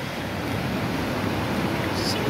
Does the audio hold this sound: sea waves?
yes